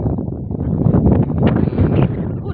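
Strong wind buffets and roars against the microphone at a seaside salt-making site in San Jose, Occidental Mindoro, gusting continuously and close up with no talk.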